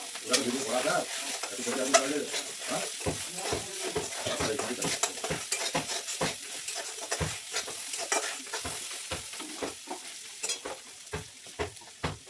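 Green chillies and ginger frying in oil in a pan, stirred with a utensil that scrapes and knocks the pan in a quick irregular rhythm over a continuous close sizzle.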